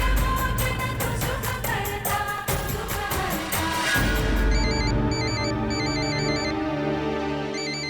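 A phone ringtone repeats in short melodic bursts over background music, loud and steady throughout as an incoming call keeps ringing in a family home.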